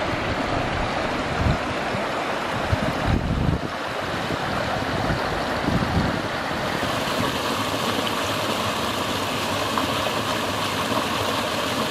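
A mountain stream in early spring near Abrams Creek in the Smoky Mountains rushes steadily with broadband water noise, continuous and close, with some wind buffeting the microphone and no talk.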